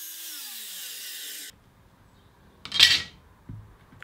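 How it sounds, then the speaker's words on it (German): A power drill whines steadily for about a second and a half while boring holes in cut wooden pieces, then stops; after a quiet pause comes a short bright scraping burst, likely the countersinking, and a small knock at the end. "Eike hat in die zugeschnittenen Elemente Löcher vorgebohrt und gesenkt"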